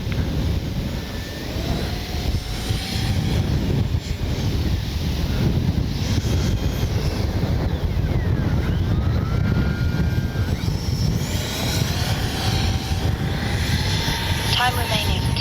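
An X-Fly F-22 Raptor twin 40mm electric ducted-fan RC jet whooshes and whines overhead in gusty conditions, its pitch rising and falling as it passes, mixed with heavy wind buffeting the microphone.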